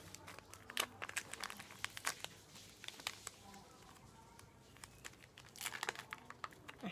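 Plastic-foil sachet of drink powder torn open by hand, a series of sharp crinkling and ripping bursts close by, with a quieter stretch midway and a final flurry of crinkles; no talk.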